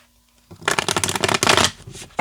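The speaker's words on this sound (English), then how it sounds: "let me just shuffle a little bit more" A deck of playing cards being shuffled up close, a quick burst of rapid riffling flutter that starts after a brief quiet moment and runs about a second and a half, loud and crisp with no voice over it.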